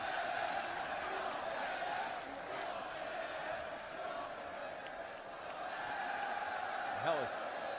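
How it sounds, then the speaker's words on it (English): A dense arena crowd at a WWE SmackDown wrestling match in Saudi Arabia keeps up a steady roar of cheering and shouting, with a voice talking over it. "This crowd's electric for this match, bro"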